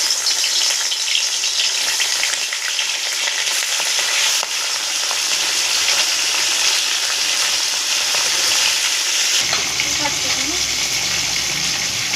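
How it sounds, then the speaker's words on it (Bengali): Small bhola fish frying in hot oil in a home kitchen, a continuous crackling sizzle that shifts partway through into a softer bubbling hiss, with faint voices in the background. "এই তেল গরম হয়ে গেছে, এবার আমি মাছগুলোকে ভেজে নেব।"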